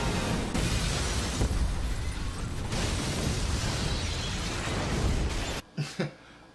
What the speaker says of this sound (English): Right now, we start the movie off with explosion.